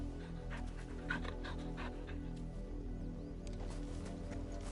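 A dog in Final Fantasy XVI pants softly and lets out a few faint whimpers, close by, over a steady low game hum, with no voices.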